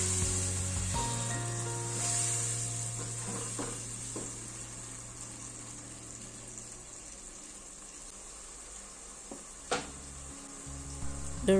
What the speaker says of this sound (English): Then I'll add in my roughly blended peppers and onions and fry that until it is well fried.